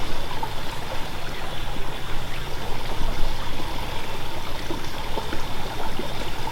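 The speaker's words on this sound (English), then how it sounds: "The creek is still flowing, but it's down a bit" Water flows steadily over rocks in a creek, a constant rushing babble with no voices.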